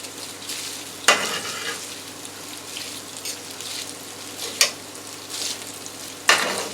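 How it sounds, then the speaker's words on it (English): Bourbon chicken, vegetables and pasta stirred in a frying pan: a steady sizzle with scraping and stirring, punctuated by a few sharper clanks of the utensil against the pan. "And you see how I'm mixing it up so I can get everything that's in this frying pan on the bottom"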